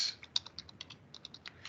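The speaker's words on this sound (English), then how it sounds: "I'm just going to type in English" Quick, light keystrokes on a computer keyboard tap out a short search entry, about a dozen soft clicks in an uneven rhythm, close and alone in a quiet room.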